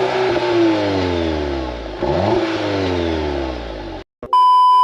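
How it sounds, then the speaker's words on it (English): Audi TT exhaust revving in short, loud bursts, rising and falling twice before cutting off abruptly, followed by a brief electronic tone. "I'll put a clip here of me revving the car."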